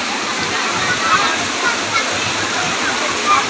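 Cold water pouring at a waterfall: a loud, continuous rushing roar up close, with splashing and a few faint high chirps over it, with no talk.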